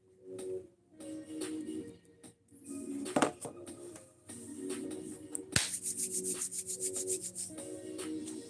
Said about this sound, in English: we get to practice some hand sharpening